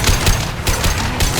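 Rapid automatic gunfire in Mass Effect Legendary Edition during a Collector Ship ambush, loud close bursts repeating in quick rhythm with no talk.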